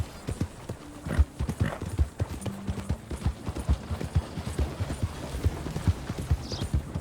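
Hooves clip-clop in a steady rhythmic stepping pattern in Red Dead Redemption 2, fairly close, with soft ambient noise and a faint whinny-like sound in the background.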